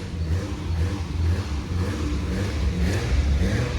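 A Nissan Skyline R33 engine revs hard and steadily under load on a dyno, a continuous throaty roar with slight surges, close and loud, with no talking.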